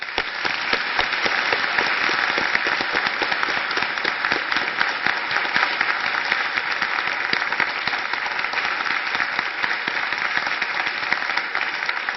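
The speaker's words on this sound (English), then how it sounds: "I think a round of applause for all of our panelists" Sustained applause from an evening audience honoring a physics panel, a dense steady wash of many hands clapping that holds even and loud for the whole stretch without letting up.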